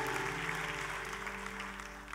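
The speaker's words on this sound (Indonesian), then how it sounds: "Tepuk tangan buat Raja di atas segala raja." Congregation applause in a church service, a steady, moderately distant wash of clapping from many people, with a sustained musical drone underneath throughout.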